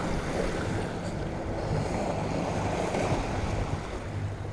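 A sailboat motors along the Sardinian coast at sea, its engine a steady low drone mixed with rushing waves and gusting wind noise on the microphone, continuous and fairly faint, with no voices.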